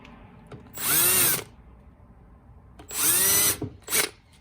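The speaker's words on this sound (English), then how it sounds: "Then we're going to take the drill, we're going to touch each one of them," A power drill starts holes straight down into a wooden framing board for a van build's walls and ceiling. It whirs loud and close in two long bursts and one short burst, with quiet pauses between them.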